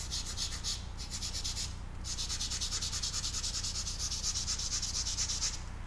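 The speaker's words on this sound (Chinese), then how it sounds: "底色揉擦均匀了" Steady close-up rubbing of a drawing's base colour to blend it smooth, a soft continuous scrubbing with repeated short strokes and brief pauses, alone with no voices.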